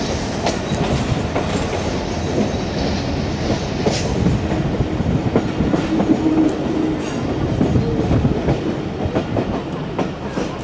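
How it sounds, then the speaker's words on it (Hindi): A passenger train approaching Raigarh junction rumbles loudly and steadily, with rhythmic clickety-clack of wheels over rail joints and faint squeals running through the whole stretch, with no talking. "और 3 बजे ट्रेन हमारी रायगढ़ जंक्शन अप्रोचिंग बनाते हुए।"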